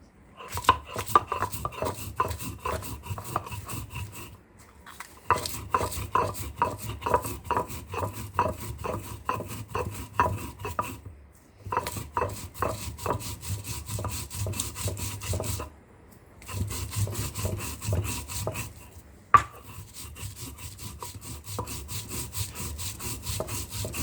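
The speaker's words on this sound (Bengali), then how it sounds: "এখন আমি মরিচটাকে বেটে নিব।" Salted chili peppers are ground on a grinding stone, a steady rhythmic scraping and rubbing of stone on stone in long runs. Close and clear, it pauses briefly a few times, with no voices.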